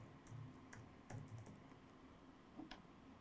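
Keys tapped on a computer keyboard in short quiet bursts, soft clicks in uneven clusters close to the mic, with a faint steady hum behind.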